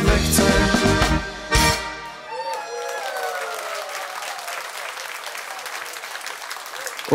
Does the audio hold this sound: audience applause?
yes